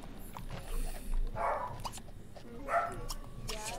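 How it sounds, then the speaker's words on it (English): Dogs bark in The Sims 2, a few short barks and yips spread across a few seconds over steady game background sound. "endure the dogs barking."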